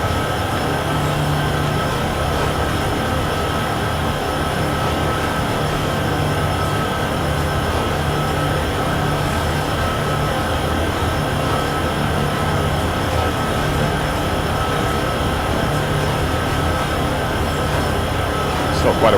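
Freight train hauling ethanol tank cars in Train Sim World 6 on Union Pacific's Cheyenne-Laramie line, a steady close rumble of wheels and wagons with a faint continuous tonal hum, unbroken throughout.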